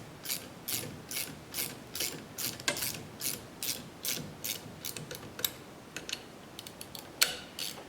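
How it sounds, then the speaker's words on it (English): Steady run of sharp ratchet clicks from a wrench tightening a bolt on an Onefinity Elite Foreman CNC machine, close and moderately quiet, in quick repeated bursts with no talking. "And then this is all ratchet. The bolt itself should not be moving."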